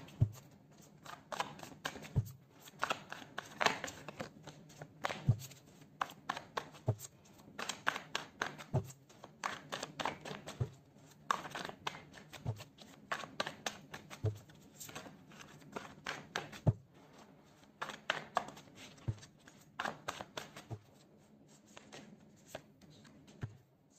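Tarot deck shuffled by hand in repeated bursts of crisp riffling and flapping card slaps, close and fairly loud, with brief pauses between rounds and no talking.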